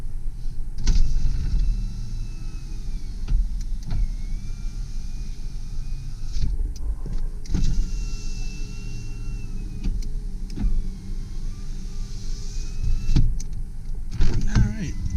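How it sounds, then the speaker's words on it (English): Power windows on a red 2001 Mazda B4000 SE V6 4WD extended cab pickup truck with 86,000 miles whir up and down in several long motor runs, moderately close, over a low idling rumble. "Let's do our windows check."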